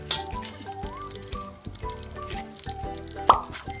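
Garlic sizzles and crackles as it drops into a hot pan, close and bright with a soft popping, a brief clatter and a sharper splash near the end, and no talking.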